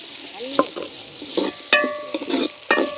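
Onions and green chillies sautéing in a pan, short bursts of sizzling and stirring with a few sharp scraping clinks over about three seconds, fairly close.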